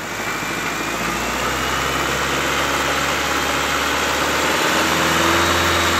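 A Honda Civic engine idles steadily and loudly close by, with a constant low hum and vibration and no distinct change across the stretch.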